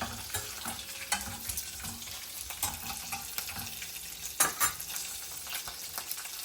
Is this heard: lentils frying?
yes